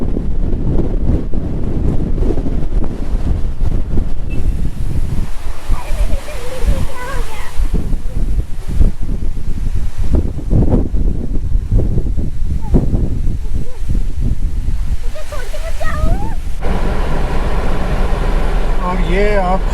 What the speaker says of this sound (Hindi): एकदम तेज हवाएं चल रही हैं